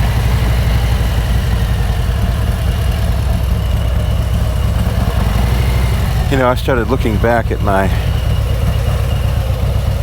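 A motorcycle engine drones steadily while riding, a low constant rumble with wind noise, and someone talks over it partway through.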